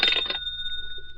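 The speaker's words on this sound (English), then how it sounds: "when the phone rang again." A telephone gives one brief ring burst that quickly cuts off, leaving a faint steady electronic tone trailing into near silence.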